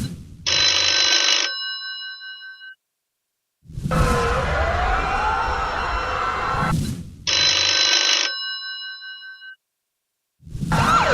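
Telephone rings at 3 a.m. in a Hillary Clinton campaign ad: two loud, bright trilling bursts of bell ringing, each about two seconds, alternating with stretches of a different sustained sound, all without speech.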